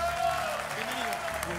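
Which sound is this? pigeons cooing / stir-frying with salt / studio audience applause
studio audience applause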